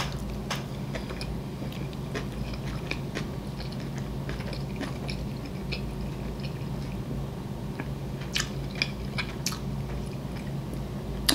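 Close-up chewing of shrimp sushi and mussels, soft wet squishy bites and clicking mouth sounds repeating steadily with no talking.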